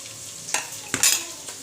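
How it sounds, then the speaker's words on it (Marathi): Ginger garlic paste sautéing in hot oil in a pot gives a soft, steady sizzle, with two or three sharp scrapes and clicks of stirring, close and brief. "प्रथम एक टोपामध्ये तेल गरम केलं त्याच्यामध्ये आलं लसूणची पेस्ट टाकलेली आहे आणि ती आता परतवली जात आहे"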